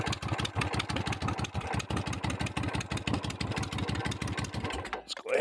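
A motorcycle-like engine idles low on fuel while on reserve, a steady rapid chugging pulse that runs loud and close, then cuts off abruptly near the end as it is shut off.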